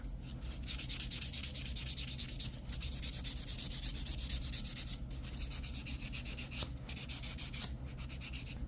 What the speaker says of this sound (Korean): 샌딩 하다가 너무 튀어나온 부분 있으면 파일로 좀 갈아서 맞춰주시면 됩니다